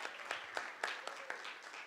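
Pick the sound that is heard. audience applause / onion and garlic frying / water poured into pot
audience applause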